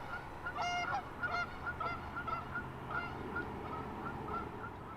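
Geese honk by a lake, with a series of repeated, nasal calls at moderate distance over faint outdoor background noise.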